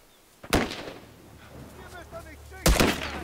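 Two sharp, loud gunshots in The Last of Us ring out about two seconds apart, each with a short echoing tail, over low game ambience and faint talk.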